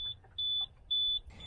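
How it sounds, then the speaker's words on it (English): A wheelchair-accessible van's ramp warning sounds as three steady high-pitched electronic beeps, evenly spaced and clear, with faint background noise and a brief rustle at the end. "Sorry about the beeping. Definitely need to get rid of it."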